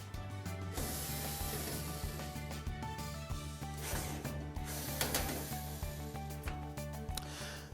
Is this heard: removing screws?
yes